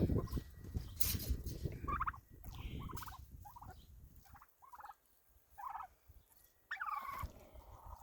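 Several turkeys gobble in rattling bursts, one after another with short pauses between, fairly close over a low background hum.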